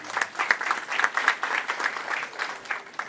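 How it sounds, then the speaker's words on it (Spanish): Audience at a healthy-eating nutrition panel in Peru applauding a panelist, a lively burst of many hands clapping at moderate volume, pulsing slightly as it continues and gradually thinning toward the end. "La recibimos con un fuerte aplauso, por favor, para el panel."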